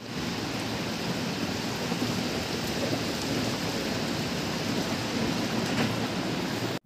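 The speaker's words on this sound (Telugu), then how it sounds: "వర్షం స్టార్ట్ అయింది." Steady rain falling outside a room, a continuous even hiss of drops with a low rumbling wash underneath, holding at the same level throughout with no voices.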